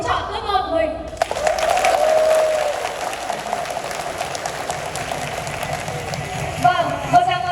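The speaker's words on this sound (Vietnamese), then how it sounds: "một tràng pháo tay thật lớn cả nhà mình ơi" Loud audience applause at a talk by a scientist, sustained clapping from a large crowd that starts abruptly and continues steadily, with a speaker's voice over it.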